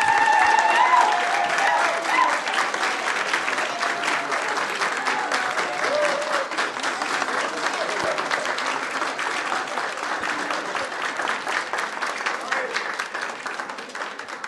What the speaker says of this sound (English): So can we just give a last round of applause for all of the graduates?